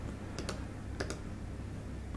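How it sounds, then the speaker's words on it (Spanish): Mouse clicks and keyboard typing at a computer during Power BI data editing, a few sharp clicks in two quick pairs over a steady background hiss, with no voice. "Clic derecho con el mouse, Replace Values"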